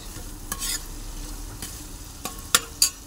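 Onion fried in hot oil for a mutton dish, a steady crackling sizzle broken by a few sharp spatula scrapes and clanks against the pan, close and moderately loud.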